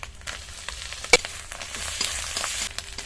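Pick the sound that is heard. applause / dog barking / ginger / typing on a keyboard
ginger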